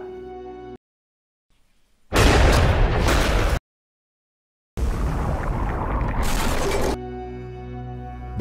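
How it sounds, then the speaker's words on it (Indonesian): A homemade bomb thrown down a well explodes in two loud, dense bursts separated by silence, each lasting over a second, with a low rumbling tail. "itu meledak dan membuat semua parang-parang mereka terbang keluar."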